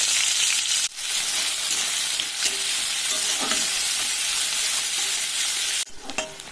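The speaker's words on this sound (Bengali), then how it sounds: "এবার আমি দিয়ে দিচ্ছি কুচুনো পেঁয়াজ" Chopped onions hitting hot oil in a wok after cumin, dried chilli and whole garam masala, a loud dense sizzle throughout with brief breaks and stirring clatter, a fresh burst of frying near the end.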